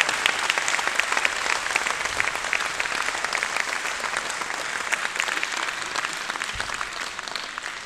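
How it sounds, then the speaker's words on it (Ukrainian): Sustained applause from a large audience, steady and dense throughout, filling the space without pause. "Ці оплески для вас."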